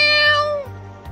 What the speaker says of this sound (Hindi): और ये हमारे बिल्ली पता नहीं कहाँ से घूम के आ गई।